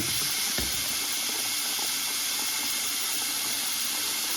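Cold water runs from a household tap in a steady broadband hiss that stays constant throughout, with no one talking.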